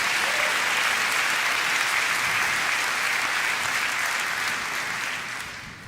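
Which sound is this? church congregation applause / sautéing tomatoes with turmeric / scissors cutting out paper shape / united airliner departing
church congregation applause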